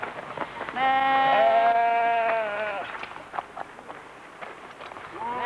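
Repeated loud gunshots in an Indian TV crime drama fire in an irregular series, sharp cracks spaced a second or two apart with a constant rumbling background between them.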